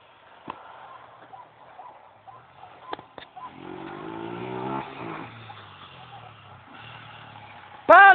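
Motorcycles rev in a fairly faint burst of rising engine tone midway through, with scattered background noise and a louder sharp sound at the very end.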